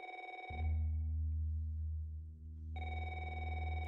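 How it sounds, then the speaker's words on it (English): A phone ringing in a horror video game, two electronic ring bursts separated by a short pause, loud and close with no talk over them. "Oh, Martha's calling."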